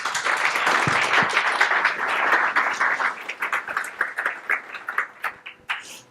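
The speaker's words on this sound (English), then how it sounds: "give a round of applause for James" Conference audience applauding a speaker's introduction at a Swift developer event, dense clapping that thins into scattered individual claps toward the end.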